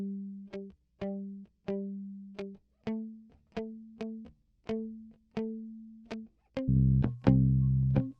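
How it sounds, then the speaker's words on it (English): A second bass line for the song, played in a high octave, pulses as a steady run of short plucked notes with clean decays, ending in a couple of louder, fuller notes. "the most important of those elements is a second bass line"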